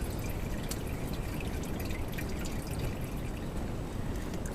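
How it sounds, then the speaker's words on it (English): Fluid dripping and trickling from a removed drain pan into rags, a steady close wet patter with scattered drops throughout and no voices. "we've taken off most of the bolts slowly as the fluid dripped out"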